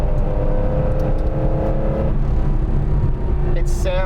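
A 1977 Porsche 911 engine drones loud and steady from inside the car, a sustained mechanical hum with rising tonal whine that shifts partway through, continuous throughout.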